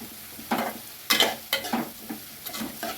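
Green and dried chillies stirred into egg bhurji in a pan, with repeated close spatula scrapes and clinks over a light sizzle, irregular but steady, and no one speaking.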